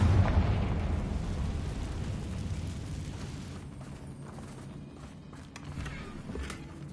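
Confringo fire spell blasting in the Hogwarts Legacy video game, a loud, rumbling explosion at the start that trails off into a long, dull low-end roar with scattered debris crackle.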